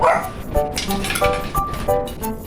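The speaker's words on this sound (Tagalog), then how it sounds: "Na-distract sa aso." A dog barks repeatedly in short bursts close by, with brief whimpering yips between barks and people chatting underneath during an indoor question-and-answer mukbang.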